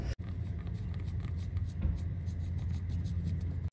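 A pen or marker scratches out a short note beside a boat thru-hull fitting, a soft, close, steady scribble over low background hum.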